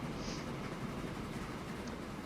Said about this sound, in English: First time crossing of trains on this line.